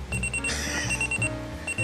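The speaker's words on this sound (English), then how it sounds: "I think it's one of those gradual alarms" A Geekhouse 5S alarm clock sounds a gradual alarm, quick repeating electronic beeps that grow faster, fairly quiet and close, with no talk over it.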